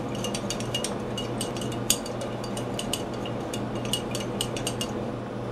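A spatula stirs solidified paraffin into an emulsifier solution in a container, producing steady rapid clinking and scraping taps against the vessel over a constant low background hum, without any speech.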